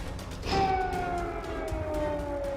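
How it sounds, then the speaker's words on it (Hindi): Emergency air raid siren sounding in Kyiv during wartime, a steady wailing tone that swells in after a moment and holds loud and continuous, slowly sliding down in pitch, with no voices over it. "कीव में इमरजेंसी सायरन की आवाज।"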